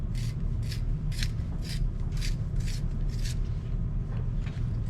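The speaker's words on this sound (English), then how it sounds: "Sharpen my pencil." A pencil being sharpened gives a rhythmic series of about seven crisp scraping strokes, evenly spaced and close, over a low steady background hum.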